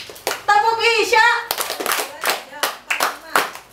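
Children clap along in a rhythmic clap chant, a run of sharp, evenly spaced hand claps mixed with young voices chanting, close and lively.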